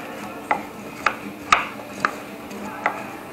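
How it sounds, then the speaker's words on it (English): Potatoes tossed with olive oil in a pan, five or six separate clattering knocks spaced about half a second apart, each a short rattle of pieces shifting against the pan. "We'll just give this a little toss in the pan here."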